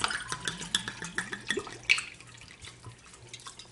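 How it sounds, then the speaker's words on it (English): White wine poured into a cioppino broth in a home kitchen: soft trickling and dripping with light clinks of a pot and utensils, fairly quiet and close. "So let's go pour some wine in"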